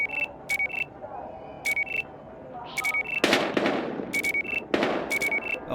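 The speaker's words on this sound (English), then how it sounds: "We've got gunshots." Gunfire in a Battlefield video game, a few sharp, moderately loud bursts among repeated electronic beeps and a low background rumble.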